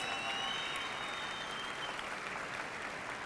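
Broad, steady applause from a large graduation ceremony crowd honoring faculty and staff at the Raza Graduation at UNM, a continuous even roar of many hands with a faint whistle early on.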